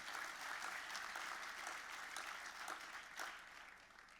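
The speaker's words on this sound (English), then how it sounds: "I think it deserves a round of applause" Applause at a Victoria University graduation ceremony in Melbourne, dense clapping from a large hall audience that gradually tapers off toward the end.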